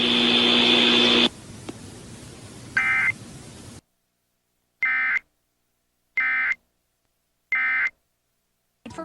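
Iowa Emergency Alert System test tones: a loud sustained dual-tone attention signal, then a short burst, silence and three evenly spaced harsh digital data bursts, loud and close with no talking.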